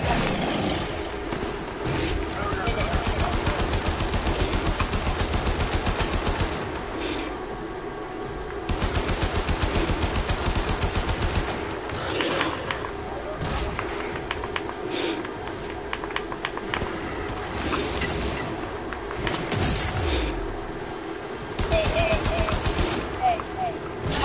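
Sustained automatic turret fire in the video game Warframe, rattling in long rapid bursts broken by short pauses, loud and close, with players talking over it.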